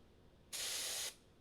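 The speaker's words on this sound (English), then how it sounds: "These are like ice sprays." A can of ice-cold spray lets out one steady, loud hiss lasting about half a second, starting and stopping abruptly against a quiet room.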